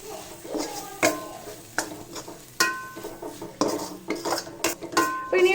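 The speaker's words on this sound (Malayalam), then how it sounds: "ഇനി നമുക്കിത് നന്നായിട്ട് ഇളക്കി കൊടുക്കാം" Masala powder being stirred into beef curry in a pan, heard as a series of sharp, close metal spoon clanks and scrapes against the pot in an irregular rhythm, with faint sizzling beneath.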